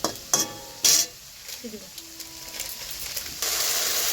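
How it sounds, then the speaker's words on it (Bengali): Potato pieces fry in a pan for a fish curry, with a few sharp scrapes and clinks as they are turned, then a soft sizzle that swells into a steady hiss near the end. "আলুটা উল্টে পাল্টে সুন্দর করে ভেজে নিলাম, সব দিকে সমান অন্তরালে ভাজলাম"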